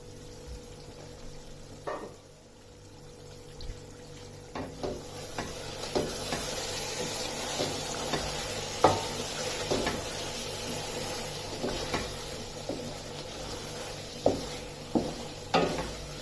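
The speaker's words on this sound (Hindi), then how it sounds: "मैंने इसे स्लो फ्लेम पर 15 से 20 मिनट तक पकने दिए।" Bombay biryani with chicken and potatoes cooks on a slow flame with a faint steady sizzle, broken by scattered scraping and stirring knocks from a utensil in the pot.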